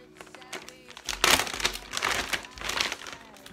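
A plastic Ziploc-style bag that held a lace frontal hairpiece crinkles and crackles as it is handled, in uneven bursts that peak loudest about a third of the way through.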